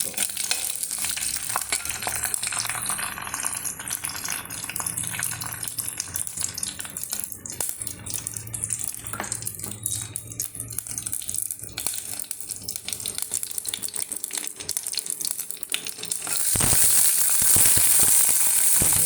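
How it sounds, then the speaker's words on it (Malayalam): Chilies, mustard seeds and fenugreek fry in hot oil for a kakka (clam) fry, giving a steady close sizzle with popping crackles that swells louder near the end, with no talking. "ഇതിലേക്ക് നമ്മൾ മുളകും ഇട്ട് കടുകും ഇട്ട് സ്വല്പം ഉലുവയും ഇട്ടിട്ടുണ്ട്"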